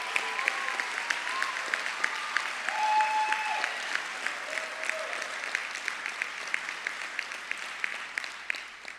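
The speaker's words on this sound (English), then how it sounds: "Let us have a round of applause for our families and friends that are here tonight." Audience at a high school graduation ceremony clapping steadily, a dense sustained round of applause from a crowd in a large hall that slowly thins toward the end, with no talk over it.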